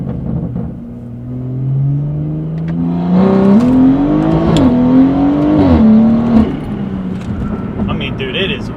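BMW F30 Gen1 with a B58 engine launching on rolling anti-lag, engine note climbing steadily then surging into a loud, harsh rising roar with brief dips, heard up close with background chatter.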